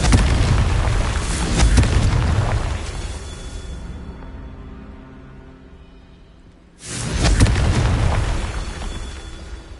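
The fiery Confringo spell erupts in Hogwarts Legacy: loud booming blasts and crackling rumble that fade into a quiet lull, then a second sharp explosion bursts in and rumbles on heavily.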